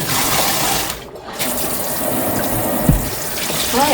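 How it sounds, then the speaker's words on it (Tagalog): Steady rushing water pours from a kitchen tap while dishes are washed, a continuous close hiss with a brief dip near the start and a small clink partway through. "Feeling ko, parang nasa ilog na yung bang flowing yung water."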